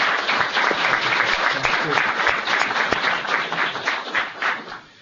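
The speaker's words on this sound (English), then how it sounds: "you could give a warm round of applause to the director of the National Hurricane Center, Ken Graham" A large audience gives a warm, sustained round of applause for National Hurricane Center director Ken Graham; dense clapping fills the space steadily for several seconds before tapering off at the end.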